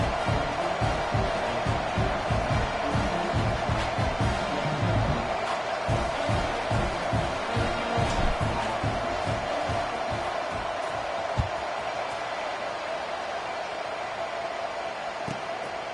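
A large stadium crowd at an SMU vs Mississippi State college football game keeps up a steady, broad murmur and roar with no clear peaks, as if heard from the stands.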